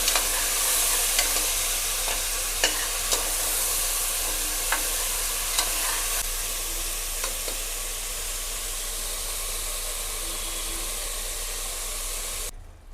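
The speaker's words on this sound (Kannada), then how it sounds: "ಹಾಕಿ ಇದನ್ನು ಒಂದೆರಡು ನಿಮಿಷ ಚೆನ್ನಾಗಿ ಫ್ರೈ ಮಾಡ್ಕೊಳ್ಳಿ" Chickpea and green pea curry ingredients fry and stir in a pan, giving a steady close sizzle with a few faint scraping taps early on. The sizzle runs alone with no voices and cuts off sharply near the end.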